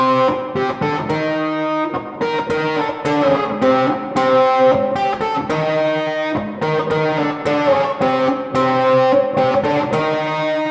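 A gritty, distorted plucked riff on an electric ukulele repeats in bursts of strummed chords, loud and close, with brief pauses between phrases.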